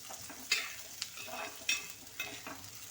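Chopped drumsticks sauté in a pan with a soft, continuous sizzle, punctuated by several distinct scrapes and clacks as a spoon stirs them, heard fairly close and quiet.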